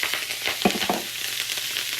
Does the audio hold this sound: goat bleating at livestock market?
no